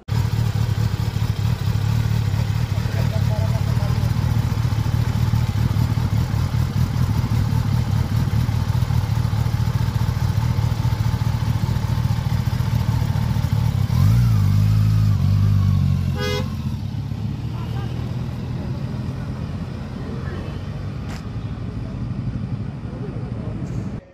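A green Kawasaki Ninja sports motorcycle rides alongside a red car, its engine a steady, loud roar that carries through most of the stretch before easing slightly toward the end.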